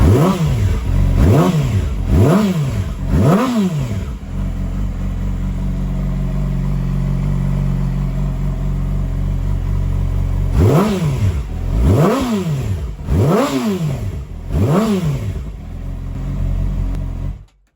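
A car started after sitting in winter storage, the engine repeatedly revved in rising and falling bursts, then idling steadily before another run of revs and a sudden cut-off, loud and close.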